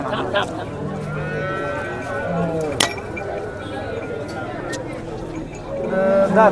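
Cows low and moo amid a busy crowd at the Sangola cattle market, with voices talking throughout and a sharp knock partway through.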